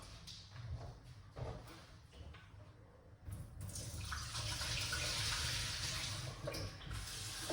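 Grapes being rinsed under a running tap, a steady broadband rush of water that grows fuller and louder partway through, with faint handling clatter and no talk.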